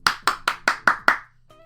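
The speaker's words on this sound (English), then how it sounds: "Yuki started clapping after he saw me and Akito." Six sharp handclaps in an even rhythm from a character in the visual novel game Ayakashi Koi Gikyoku, close and crisp, ending with a brief soft musical tone.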